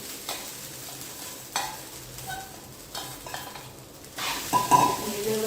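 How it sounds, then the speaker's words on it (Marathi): Soaked sago khichdi is mixed in a pan, with a soft background sizzle and intermittent spoon scrapes and taps against the metal, busier clattering near the end. "व्यवस्थित मिक्स करून व्यवस्थित मिक्स करून घेतली"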